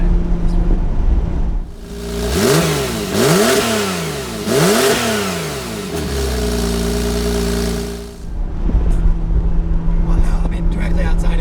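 A factory exhaust on a low-mileage 2018 Porsche 991 Targa 4 GTS is blipped three times in quick succession, sharp revs rising and falling, then settles into a steady idle, with people talking around it.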